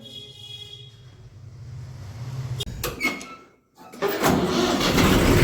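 A tractor engine cranks over with a key and fires, ending in a loud, steady engine roar after a short silence.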